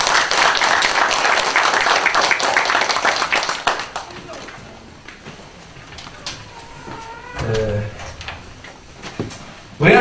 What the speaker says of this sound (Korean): 박수로 경의해 주시기 바랍니다.